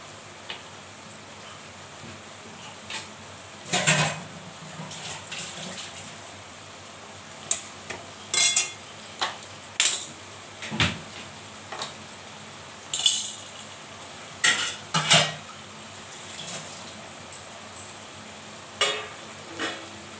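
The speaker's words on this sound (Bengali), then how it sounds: "এবার ভালো করে নাড়ব।" Spoon or spatula scraping and tapping in a pan while coconut prawn curry is stirred, giving scattered sharp clinks and ticks at irregular intervals, close and moderately loud over a quiet background.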